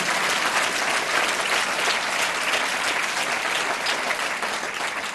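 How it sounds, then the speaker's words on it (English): A crowd claps for the players at a 1999 football club best and fairest awards night, producing loud, continuous applause that carries on steadily throughout with no voices over it. "Give them a big round of applause."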